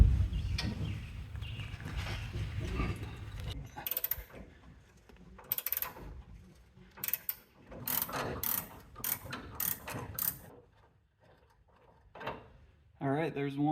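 Socket wrench with an 18mm socket working rusted rear bumper bracket bolts on a 1994 Chevy K1500, rapid ratcheting bursts in several short runs separated by pauses, close and clear, with someone talking at the start.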